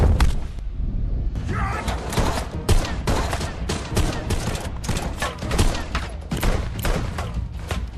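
Bursts of gunfire during a SWAT raid in an action film, a loud, dense volley of rapid shots and impacts repeating across the scene with little pause between them.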